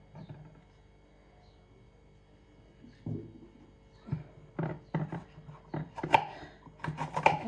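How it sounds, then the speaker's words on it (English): A knife chops peppers on a cutting board, starting with quiet scraping and then building into a run of sharp, fairly close taps that grow more frequent and louder toward the end. "So just give this a good chop."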